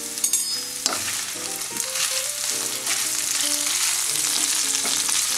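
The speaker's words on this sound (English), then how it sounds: "Now we'll add the spinach." Spinach hits a hot pan already holding fish and carrots, setting off a steady, close sizzle with brief stirring scrapes and clinks near the start, continuing without talk.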